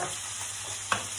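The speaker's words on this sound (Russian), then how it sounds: "Так у меня на самой высокой температуре это все и жарится." Food frying in a pan on the highest heat, a brief, soft, continuous sizzle with a single sharp tick of a utensil near the end.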